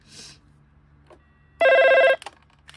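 A single short burst of electronic telephone bell ringing from a British Telecom Loudspeaking Telephone 12A/1, trilling rapidly and clearly, after some quiet handling noise.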